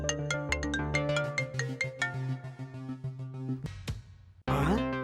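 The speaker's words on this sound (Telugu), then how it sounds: "ఫోన్ ఎత్తరా." A phone ringtone plays a bright, repeating melodic tune for several seconds, then cuts off before a burst of other sound; no one speaks over it.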